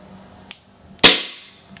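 An ASG CZ Shadow 2 airsoft pistol dry-fires in double action with an empty magazine: a faint click, then one sharp, loud snap of the hammer and slide that rings out briefly, followed by a small tick.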